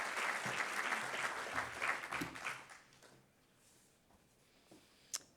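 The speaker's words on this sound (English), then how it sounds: "Let's give her a big applause." A roomful of people applaud a minister at an award ceremony, the clapping full and sustained for about two and a half seconds before thinning out to scattered claps and near quiet.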